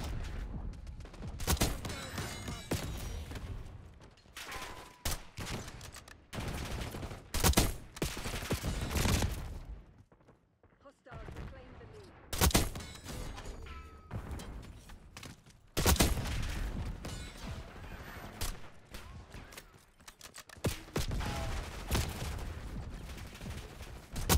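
Sustained gunfire in Black Ops 6, including sniper fire, with dense rapid shots and bursts throughout, loud and close, with only a brief lull midway.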